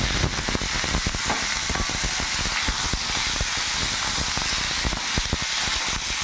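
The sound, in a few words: papaya and potato added to hot oil with spices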